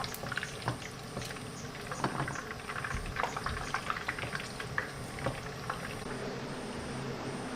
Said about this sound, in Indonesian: kita masak sayap ayamnya sampai matang ya